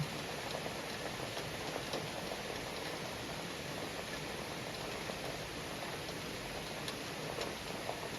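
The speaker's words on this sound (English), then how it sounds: "in the rain and the stream" Steady rain patters with a continuous rushing wash of running water, even and unbroken, with faint scattered drips.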